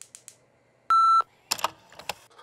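An answering-machine beep on a radio show's voicemail hotline: one steady electronic tone lasting about a third of a second, followed by faint clicks and rustling.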